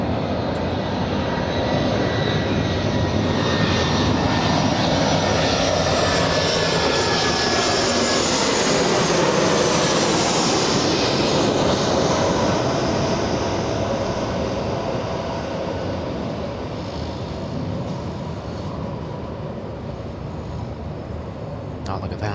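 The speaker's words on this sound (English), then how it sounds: "An Airbus A319." A 21-year-old Airbus A319 jet landing at LAX after a flight from Dallas, a loud sustained engine roar that swells with a sweeping whine, then eases off as it passes, with people talking over it.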